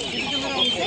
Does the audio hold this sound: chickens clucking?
yes